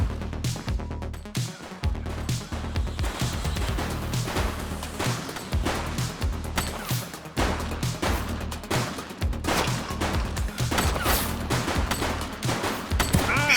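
Shootout in the video game The Precinct, with dense rapid gunfire in repeated bursts and volleys, loud and close, continuing without pause throughout.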